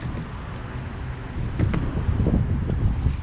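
Wind buffets a microphone on a rooftop parking garage, a steady broadband rumble that swells louder in the second half with gusty low thumps, no voices over it.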